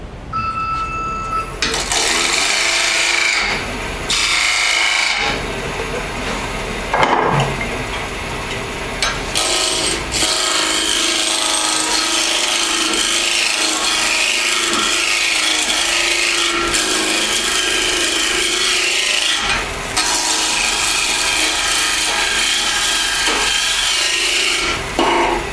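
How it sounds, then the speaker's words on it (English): A skew chisel cuts spinning redwood on a lathe, giving a loud, continuous rasping, scraping wood sound with brief dips and changes in texture as the tool is pushed in. "This is red wood. And you can see how quickly I'm pushing this skew in here."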